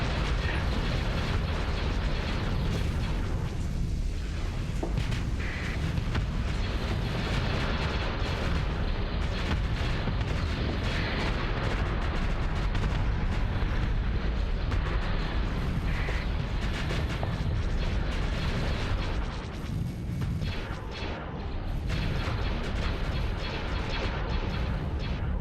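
Spaceship guns fire steadily in the Starsector space battle game, a dense, loud, continuous wash of booming weapon blasts and mechanical rumble that holds for the whole stretch with only a brief dip near the end.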